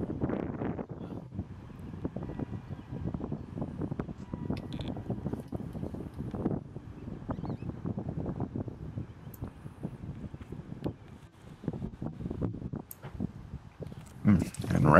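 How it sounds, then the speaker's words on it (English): Strong headwind buffets the microphone on a disc golf course during a tournament final round, producing a steady, rumbling low roar with gusty swells. Commentators talk over it throughout. "You have a wicked headwind here for Ben."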